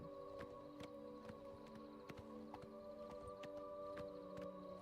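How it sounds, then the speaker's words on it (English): Horse galloping in the video game Oblivion Remastered: a steady series of hoof thuds in an even rhythm, layered over sustained tonal game music or ambience, with no talking. "The horse's gallop should at least be faster than your walking at the very least."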